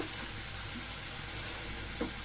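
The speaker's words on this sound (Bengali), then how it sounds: "ভালো মতো কষিয়ে নিচ্ছি।" Spices for a long bean and potato curry sauté in a pan, giving a soft, steady sizzle with a faint stirring scrape near the end.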